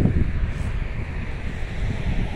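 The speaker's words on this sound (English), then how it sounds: "we're at Grinnell's Beach here in Tiverton" Wind buffets the microphone steadily while waves wash in at Grinnell's Beach in Tiverton, a constant, rough roar with no voices.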